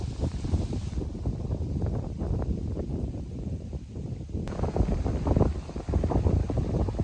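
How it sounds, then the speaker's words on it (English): Steady wind on a lakeshore buffets the microphone in a continuous rough roar, with gusty fluctuations throughout and no voices. "It's somewhat windy here on the shore"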